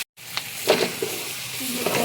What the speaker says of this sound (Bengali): এটা এখন কিছুক্ষণ ভেজে নিব।